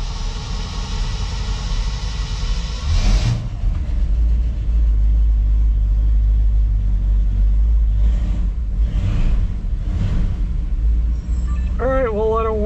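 A 1959 Chevrolet Bel Air engine fires on a cold start after a brief crank, then settles into a loud, steady low idle rumble, close by, with faint talk near the end.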